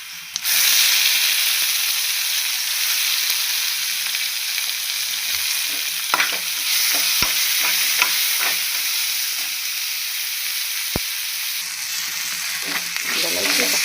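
Tomatoes and onions sauté in a pan for a cluster beans masala curry, giving a steady, close sizzle and hiss with occasional stirring scrapes and taps, and no talking.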